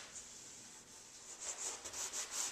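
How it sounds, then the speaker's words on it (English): Sandpaper rubbing across wood kitchen cabinets, 100 grit, in steady back-and-forth strokes that grow louder and more rhythmic toward the end, close and alone with no talk. "I start sanding with 100 grit, which is a medium grit sandpaper."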